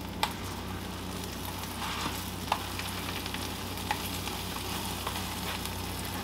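A folded flour tortilla with melting cheese and jalapeño fries in oil over medium-low heat, giving a steady close sizzle broken by occasional sharp pops.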